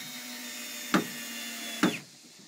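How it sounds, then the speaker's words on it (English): A power drill drives hinges into a wooden treehouse club door, a steady whirring hum broken by two short bursts of louder grinding as screws bite, close by with no talking. "This is Dad drilling in the hinges for our new treehouse club doors"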